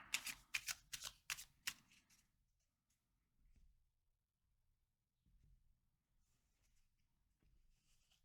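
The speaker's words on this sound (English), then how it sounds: "I'm just going to pull one card for each." Tarot cards are drawn from a deck in a quick burst of sharp, close riffling snaps lasting about two seconds, followed by near silence with faint soft rustles.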